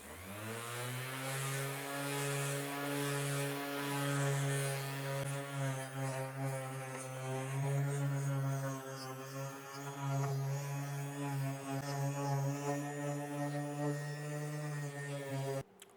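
An electric sander runs continuously on car paint with 400 grit paper, a steady motor whine with strong harmonic hum, close and fairly constant, cutting off abruptly at the end.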